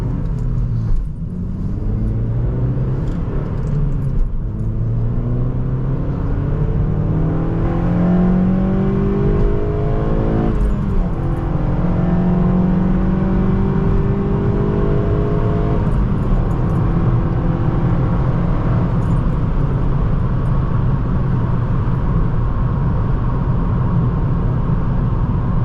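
A ninth-generation Honda Civic Si accelerates on a slightly slippery road, its engine climbing through the revs in several rising sweeps, gear changes breaking the pitch, over a constant rumble of road and cabin noise.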